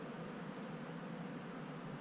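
Bees of several species buzzing around flowering ora-pro-nóbis, a faint, steady insect hum with no talking.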